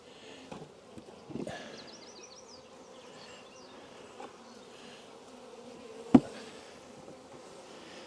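Bees buzz faintly around queen rearing frames, a soft intermittent drone with a few light knocks and one sharp thump partway through, with no talking.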